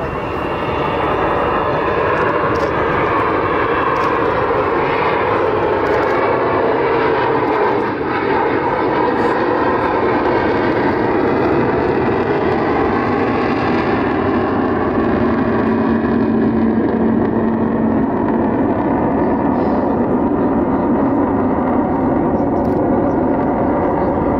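An Avro Vulcan bomber flies past with its wheels down, a loud, sustained engine roar that holds steady and slowly shifts in pitch as it passes, with faint talk underneath.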